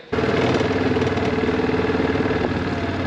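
A quad bike engine fitted with a rear sprayer idles close by, a steady loud rumbling throb that starts abruptly and runs evenly for the whole stretch with no talk.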